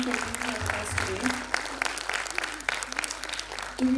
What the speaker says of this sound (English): please give a big, big round of applause to both Deepika and Shakuntala for being here with us today